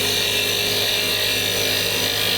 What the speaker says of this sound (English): Now I've got the lathe going